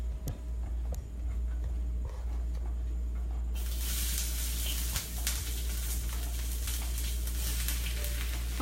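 Oil hits a hot wok during a cooking challenge and bursts into a loud, bright sizzle about midway. Before that there is only a low background hum and a few faint knocks. The sizzle then runs on steadily, close to the listener and without talk.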